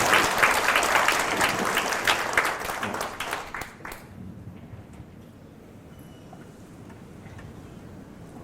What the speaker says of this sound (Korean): 여러분 박수로 환영합니다.